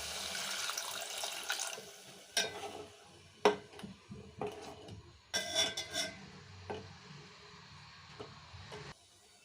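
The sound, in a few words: water poured into kofta masala in pan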